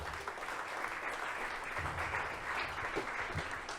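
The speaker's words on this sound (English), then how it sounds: "Round of applause, please," Audience applause at a corporate venture event, a steady dense wash of clapping filling the room for several seconds without pause.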